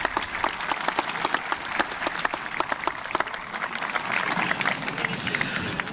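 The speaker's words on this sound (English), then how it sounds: "So please, give them a round of applause." Applause at a 2023 high school graduation ceremony, a large crowd clapping in a dense, continuous patter with some sharp individual claps standing out, loud and sustained throughout.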